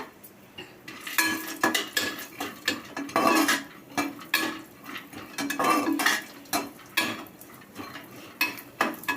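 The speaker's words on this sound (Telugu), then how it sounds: "ఇలా పొయ్యి మీద బాండీ పెట్టుకొని ఇలా కొంచెం నెయ్యి కొంచెం హీట్ ఎక్కిన తర్వాత జీడిపప్పు చూడండి, ఇది దోరగా వేయించుకోవడం" Cashews roast in ghee in a heated pan on the stove, with a spoon clattering and scraping against the metal in rapid, uneven bursts over a soft sizzle.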